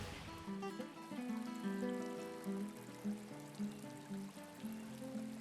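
Water trickles steadily along a 45-foot garden stream built from rocks running between an upper and lower pond, a soft continuous burble with gurgling notes.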